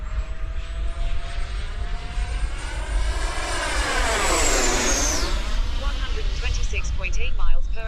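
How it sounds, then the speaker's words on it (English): An electric RC plane flies a high-speed dive pass, its whining motor and propeller rising then sweeping down in pitch as it roars past close by, loud and continuous. "One more dive pass, a little higher."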